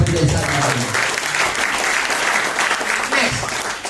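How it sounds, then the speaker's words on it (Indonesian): Audience applause at a business seminar, a dense steady wash of clapping from a crowd that holds at an even level throughout, with no voice over it. "Beri tepuk tangan untuk dia."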